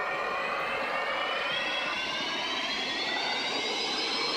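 A jet airliner's engines spool up in the X-Plane 10 flight simulator, a loud steady roar with a rising whine that climbs gradually throughout, no voices.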